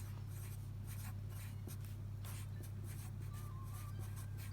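A pencil writing on paper, steady scratchy strokes in short bursts close to the listener over a constant low background hum.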